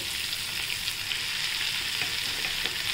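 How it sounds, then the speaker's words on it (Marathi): Garlic and red chili powder frying in oil in a pan for a dry fenugreek vegetable dish, giving a steady, close, dense sizzle throughout with no talk. "लसूण छान तळला गेला आता आपला।"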